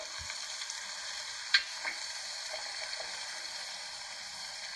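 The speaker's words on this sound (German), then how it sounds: "Ich gebe die Rinderrippen dazu." Beef ribs go into a pot of Argentine pumpkin stew with a steady close sizzle and bubbling simmer throughout, a brief metallic tap of spoon against the pot early on, and no one speaking.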